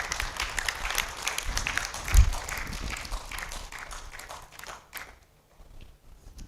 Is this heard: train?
no